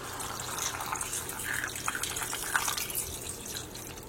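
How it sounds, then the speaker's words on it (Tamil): Water is poured into sautéed mutton in a cooking pot, a continuous close splashing and trickling stream with small bubbling surges, heard alone without talk. "மட்டனை வதக்கிட்டு கொஞ்சம் தேவையான தண்ணி ஆட் பண்ணுறேன்"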